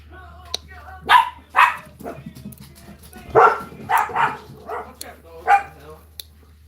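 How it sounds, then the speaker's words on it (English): A female dog barking outside at night near running trucks, with several loud, close barks in irregular bursts over a steady low engine hum. "Sorry about that dog. She ain't gonna shut up until..."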